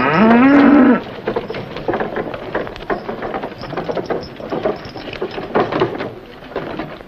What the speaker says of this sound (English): I'll milk the cow.